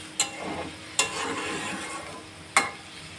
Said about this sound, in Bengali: এই যে হালকা নাড়ায় চাড়ায় এখন মাপ মতন একটু জল দিয়ে দিতে হবে কাঁকড়াটা সেদ্ধ হওয়ার জন্য।